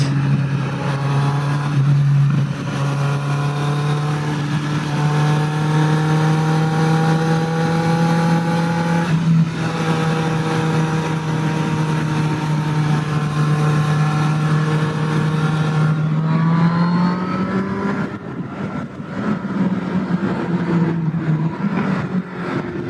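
A 2015 Kawasaki Z800 motorcycle engine drones loud and close while riding through twisty roads, its pitch rising and falling steadily with the throttle, dipping briefly during gear changes.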